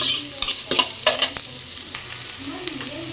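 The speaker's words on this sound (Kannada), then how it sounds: "ಎರಡು ಈರುಳ್ಳಿ ಹಾಕೋತಾ ಇದ್ದೀನಿ, ಚೆನ್ನಾಗಿ ಫ್ರೈ ಮಾಡ್ಕೊಳ್ಳೋಣ" Two onions fry in a pan for an egg palak paneer masala, a soft steady sizzle broken by several sharp scraping clicks of a spoon stirring against the pan.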